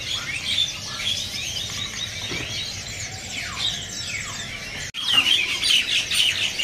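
Several caged birds chirp and tweet steadily at a bird market stall, bright repeated calls close by with background market murmur and a brief knock near the end.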